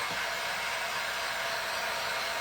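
A hair dryer runs steadily and close up, drying paint on a handmade snowman purse, a continuous loud whooshing blow with no pauses or talk.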